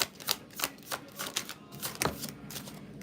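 Tarot cards are shuffled and one is drawn, heard as soft, close, rhythmic slaps and flicks repeating about every half second.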